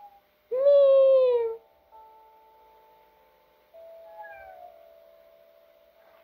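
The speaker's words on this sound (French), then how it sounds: "c'est le chat. Il a un nouveau miaulement." A cat in the video game Yandere Simulator lets out a loud, drawn-out meow, then a quieter tonal hum and a second, softer meow follow against near silence.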